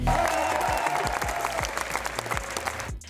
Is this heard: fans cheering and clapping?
yes